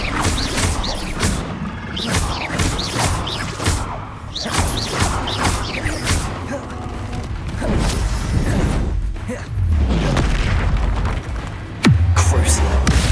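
Hogwarts Legacy combat in which the Incendio fire spell is cast among a flurry of other spells, with whooshing bursts, thuds and crashes running densely throughout at a loud level.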